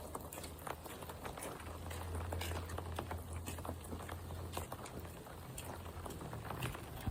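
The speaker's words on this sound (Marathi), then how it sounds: "पाऊस यायला लागलाय परत" Steady rain patters outdoors as a dense, continuous hiss with scattered drop ticks, holding an even loudness throughout, with a low engine-like hum beneath for part of the time.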